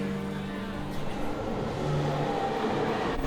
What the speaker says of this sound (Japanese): ぎゅうぎゅうの満員電車。